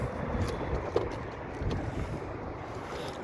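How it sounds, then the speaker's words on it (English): Strong wind blowing outdoors on an overcast day, a steady low buffeting rumble with gusty swells and microphone wind noise, no talking. "It's very windy and it's very cloudy, so it's definitely overcast."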